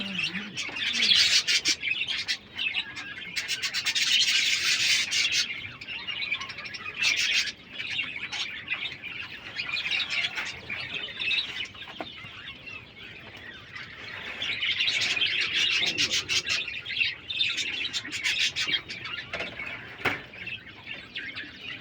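Small birdsong fills the air continuously, a busy mix of high chirps and tweets from running king quail in a breeding pair setup, steady and moderately close with no talking.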